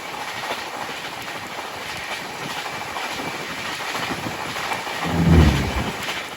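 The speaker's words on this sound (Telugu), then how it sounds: "ఇప్పుడు క్రాస్ ఓవర్ అయింది కదా, అహ్మదాబాద్ శతాబ్ది ఎక్స్ప్రెస్." The Ahmedabad Shatabdi Express passes close by on the Mumbai–Ahmedabad line, a steady, loud roar of rolling carriages with clickety-clack wheel beats and a deeper rumble near the end.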